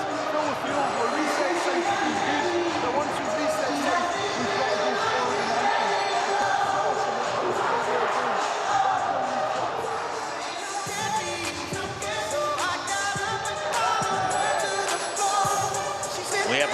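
Stadium crowd at a 2015 New Zealand rugby sevens match between Scotland and South Africa, a broad, constant murmur of thousands of voices with occasional rises, under a commentator's voice.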